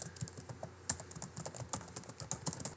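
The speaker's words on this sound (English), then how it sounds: "type out a line of text using both uppercase and" Rapid irregular clicking of keys on a computer keyboard as a line of text is typed, close and clear with no voices, the taps coming in quick uneven bursts.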